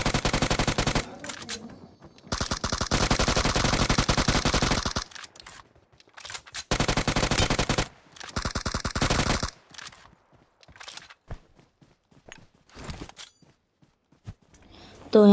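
Automatic gunfire in a video game fight, long loud sustained bursts broken by pauses and shorter volleys near the end, with a voice talking between shots.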